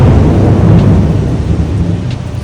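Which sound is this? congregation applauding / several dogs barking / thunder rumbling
thunder rumbling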